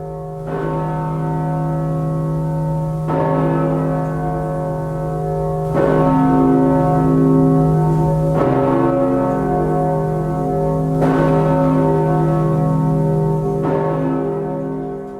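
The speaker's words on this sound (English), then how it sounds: "The Riverside Bourdon at the Riverside Church in New York City. Cast in 1928 by the Gillett & Johnson Bell Foundry" The 1928 Gillett & Johnson bourdon bell at Riverside Church in New York City tolls loudly and near, with deep, sustained humming strikes about every two to three seconds, each blooming over the last ring.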